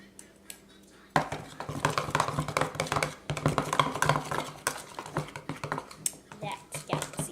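Hands mixing glitter galaxy slime in a bowl, a busy stretch of close wet squelching, clicking and tapping sounds with an irregular rhythm after a brief quiet start.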